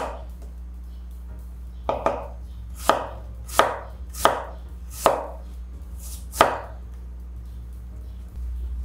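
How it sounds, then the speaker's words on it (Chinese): A knife chops water chestnuts on a cutting board in seven crisp, evenly spaced strikes, close and distinct over a low steady kitchen hum. "碧荠切末，先切片。"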